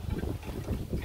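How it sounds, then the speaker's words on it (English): Gusty wind rumbles against the microphone in low, uneven pulses, with no speech. "It's windy."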